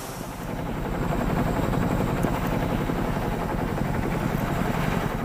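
A CH-47 Chinook helicopter drones with a loud, continuous rotor and engine roar that holds steady throughout, with no talk.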